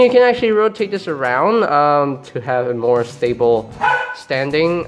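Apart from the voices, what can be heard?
dog barking in the background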